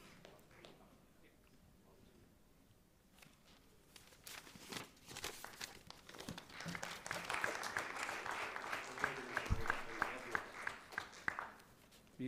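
An audience at a valedictory function applauds a prize winner: scattered claps and shuffling swell into a fuller round of clapping that builds and then tapers off.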